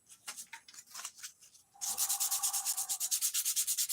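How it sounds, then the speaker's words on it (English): A big glide bait gets its final hand sanding: close, raspy back-and-forth strokes, at first slower and uneven, then quickening into a steady, brisk rhythm. "This year I'm just putting some final sanding on."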